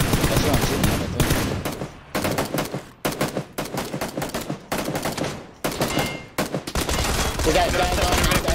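Rapid bursts of automatic gunfire in PUBG, loud and close, firing in repeated volleys separated by brief gaps, with a voice talking intermittently between shots.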